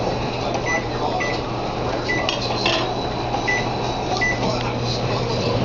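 A microwave oven runs with a steady low electrical hum and drone, joined by faint scattered clinks and rattles, heard close and continuous throughout.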